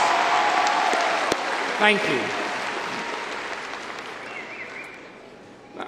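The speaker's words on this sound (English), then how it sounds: "Let's give them a round of applause for their achievements." Audience applause at a university spring commencement ceremony honoring service learning students: a steady wash of clapping fills the hall, slowly thinning toward the end, with a brief spoken thanks partway through.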